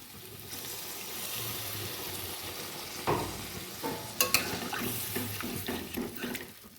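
Water poured into a pan of spiced pointed gourd curry, setting off a steady sizzle and bubbling with a few sharp clinks of utensils midway, close and moderately loud, no talking.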